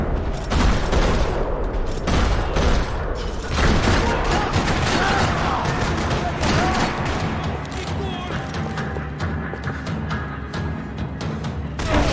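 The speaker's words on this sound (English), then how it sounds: "Another parking lot rattling with gunfire." Gunfire in the video game Max Payne 3 rattles across a parking lot: rapid bursts of shots and booms, dense and loud, with crashing impacts and a brief voice amid the firefight.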